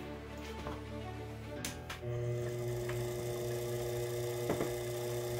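A Sherline lathe running at about 420 RPM while a boring bar enlarges a replacement supercharger part, producing a steady motor hum and whine with a few faint clicks and shifts in pitch.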